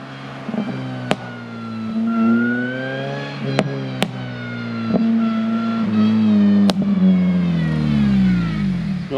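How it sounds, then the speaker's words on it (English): A supercharged red Honda Civic Si with a missing door reverses fast down a road, its engine and supercharger whine rising and falling in pitch through the gears, loud and close, with a few sharp clicks in between. "He's just reversing back down the road now. And he's not going slow. Listen to the supercharger."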